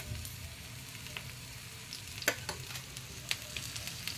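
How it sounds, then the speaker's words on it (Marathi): Thalipeeth, a mixed-flour flatbread, sizzling steadily in oil in a pan, with a continuous crackling hiss broken by a few sharper pops and spits near the middle and end of the stretch. "त्याच्यावरती आपण आता तेल घालून घ्यायचं आहे धपाट्यावर या सगळीकडनं भाजण्यासाठी"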